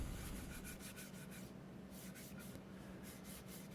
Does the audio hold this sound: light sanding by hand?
yes